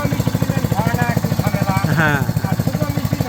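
Petrol-powered irrigation pump engine running close by on a farm on a rainy day, a steady rapid chugging pulse with a voice talking over it.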